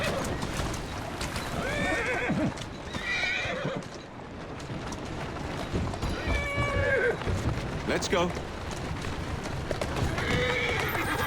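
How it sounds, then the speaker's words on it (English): A horse in the Assassin's Creed Syndicate game neighs several times, whinnies rising over continuous clip-clopping hooves, with someone speaking briefly. "Who's a good horse?"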